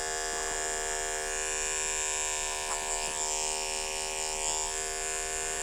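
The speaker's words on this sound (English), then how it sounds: "We are using the Andis ceramic 10 blade on this" An electric pet clipper fitted with an Andis ceramic 10 blade hums with a steady, close buzz while trimming the pads of a dog's front left paw. The motor tone stays constant, with small shifts as the blade touches fur.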